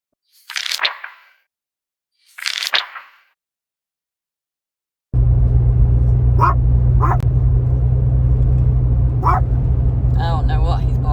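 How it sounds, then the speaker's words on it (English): A dog barks, two clear separate barks at first, then a few sharper barks and yips come over the loud steady rumble of a car interior. "I don't know what he's barking at."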